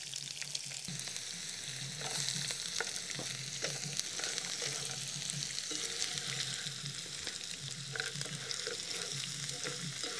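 Eggs and onions fry in a pan at a car-camping spot by a dense forest, giving a steady, close sizzle with stirring and scraping throughout and no talk.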